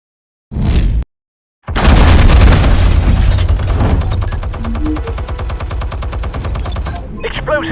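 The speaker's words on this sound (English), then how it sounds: "Explosives armed. Fire when ready." Explosives detonating in a Batman video game: a short loud blast, a brief silence, then a heavy booming detonation that rolls into a long, loud, rumbling tail that slowly fades, with a voice briefly at the end.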